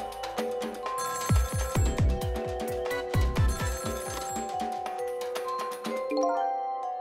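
An internal telephone bell rings in Ghost Trick, a steady repeating ring over a sustained musical background, with the ringing pulses coming in several clustered rounds before fading out.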